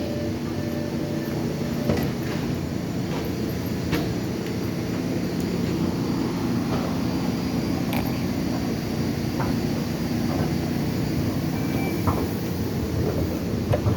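An outbound MBTA Orange Line subway train bound for Forest Hills rumbles steadily, a continuous low mechanical drone with faint clicks and squeaks scattered throughout, moderately loud and without speech.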